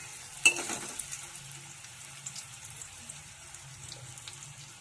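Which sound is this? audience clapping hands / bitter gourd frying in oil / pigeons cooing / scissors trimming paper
bitter gourd frying in oil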